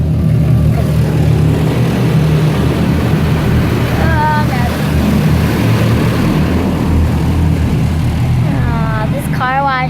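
An automatic car wash roars over a car, heard loudly from inside. A dense, steady rumbling wash of noise carries a couple of brief whining tones.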